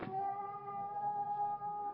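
A cat howls in one long, steady, drawn-out yowl lasting about two seconds, loud and close with no other sounds.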